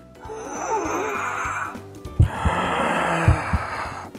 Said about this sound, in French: Alors, respire très fort.